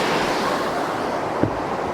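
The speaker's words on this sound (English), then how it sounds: "There's this little river flowing through the city," A little river flows through the town of Bühl beside Baden-Baden in the Black Forest, a steady rushing wash of water heard close and fairly loud, with a faint soft knock partway through and no voices.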